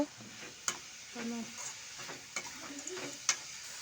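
Tomato and onion fry in a pan with curry leaves, stirred for an onion palya, giving a quiet, steady low sizzle broken by a few sharp scraping clicks of the spoon.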